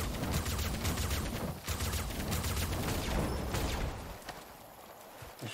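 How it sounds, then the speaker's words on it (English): Shotgun blasts hitting enemies in the video game Dolmen, loud repeated firing inside a dense wash of combat noise that thins slightly toward the end. "The shotgun is hitting them pretty well."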